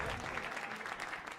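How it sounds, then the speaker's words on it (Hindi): A studio audience claps for a performer named Jenny, a brief burst of dense, even applause heard fairly quietly with no gaps. "बट एक बार जोरदार तालियां जेनी जी के लिए, कम ऑन।"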